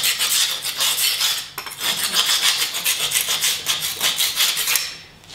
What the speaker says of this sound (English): Now just scrape it off.